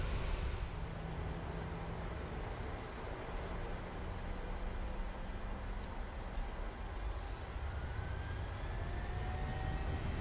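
A Boeing 737 in the PMDG flight simulator runs up for its takeoff roll on runway 24, the jet engines giving a steady, loud broadband roar with a faint rising whine throughout.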